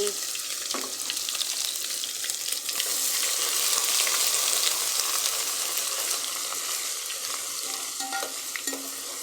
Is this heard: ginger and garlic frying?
yes